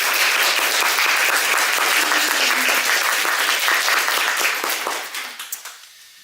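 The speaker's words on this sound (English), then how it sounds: "So a big round of applause for everyone who made this possible." A conference audience gives a big round of applause, loud and dense clapping from many people at close range, holding steady before thinning out into a few last scattered claps and silence.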